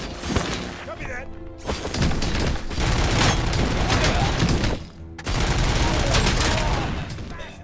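Intense gunfire in the RoboCop: Rogue City video game, dense rapid volleys with crashes and booms, loud and nearly continuous apart from two brief silent gaps.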